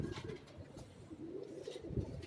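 Pigeons kept on a rooftop in Karachi's New Rizvia Society coo softly in low, throaty, rolling calls. The calls are faint and recur amid quiet outdoor background.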